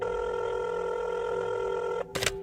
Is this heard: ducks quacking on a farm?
no